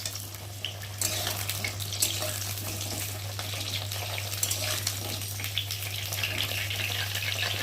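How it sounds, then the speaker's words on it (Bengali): Pieces of pointed gourd (potol) fry one by one in hot oil in a wok, a steady soft sizzle with a low constant hum underneath and occasional light crackles. "আর এখন আমি একে একে পটলগুলোকে তেলের মধ্যে দিয়ে ভেজে নেব।"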